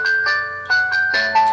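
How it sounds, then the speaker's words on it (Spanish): A W57 smartwatch plays a bright electronic ringtone melody of sustained beeping tones that change pitch in steps, loud and close, with no voice over it. "lo que viene siendo la función de poder elegir el tono de llamada"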